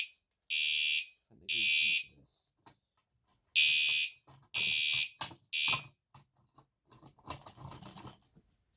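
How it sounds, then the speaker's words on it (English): A fire alarm on a fire alarm board sounds in five loud, shrill electronic blasts separated by short gaps, followed by quieter handling clicks and rustling. "if I pull the fire alarm, it shuts off"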